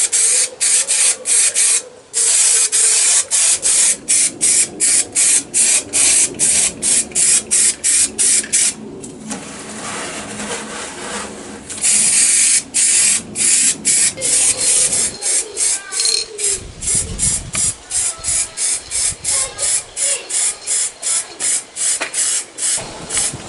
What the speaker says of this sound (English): we're just going to use some primer. Yeah, some thin coats will do.